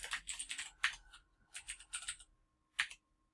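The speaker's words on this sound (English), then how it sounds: "start typing these in." Quick clusters of keyboard keystrokes click in short bursts, close and crisp, with brief pauses and a final isolated tap.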